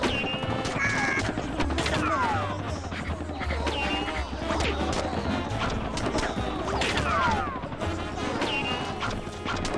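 Repeated shooting in the party video game Rayman Raving Rabbids: TV Party, with rapid impacts, crashes and squeaky, chirping game sounds packed densely and loudly across the whole stretch.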